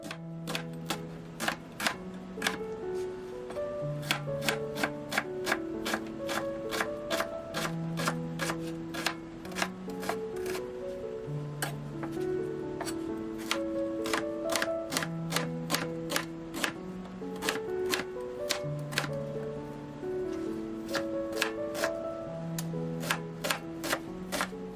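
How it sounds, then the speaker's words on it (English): A knife roughly chops a yellow onion on a board, making a long run of crisp, evenly spaced taps up close over soft background music. "I'm just going to roughly chop this up"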